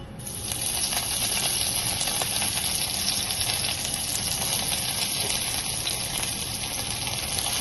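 Chopped garlic, green chili and curry leaves crackling in hot oil while tempering dal, a loud steady hissing sizzle with fine popping that fills the whole stretch, no talk.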